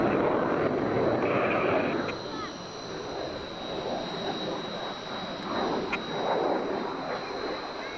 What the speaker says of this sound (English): the aeroplane will turn with the wing swept back, but not very efficiently